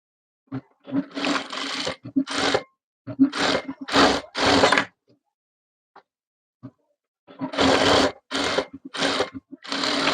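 Sewing machine stitching a saree into a maxi dress, running in several separate bursts of steady whirring with short pauses between, close and fairly loud with no voices.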